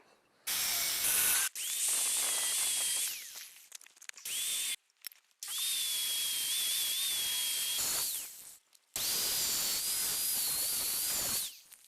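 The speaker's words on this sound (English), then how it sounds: "So now I'm using a grinder and just getting like the slaggy, funky edges and stuff dealt with." An angle grinder smoothing the rough, slaggy edges of scrap metal for trailer ramps, loud high-pitched whining bursts of several seconds each, separated by short pauses as the tool spins down and restarts.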